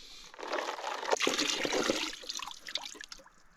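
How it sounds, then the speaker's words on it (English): Water swirling and washing around a gold pan as it is rotated during gold panning, a continuous watery rush with trickles and splashes, fairly close and steady, with no talk. "you're kind of constantly rotating the pan as you wash off while you do that swirl"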